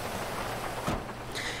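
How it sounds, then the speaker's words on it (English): Steady loud rain in a video game, a dense continuous hiss across the whole clip with a couple of brief brighter bursts, and no speech. "It's very loud in that rain."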